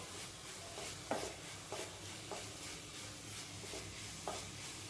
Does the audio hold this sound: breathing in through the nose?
no